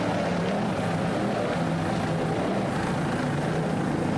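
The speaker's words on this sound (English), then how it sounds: "Nice throttling there by Matt Rice." A racing engine throttles in a steady, moderately distant drone that holds throughout, with no clear breaks.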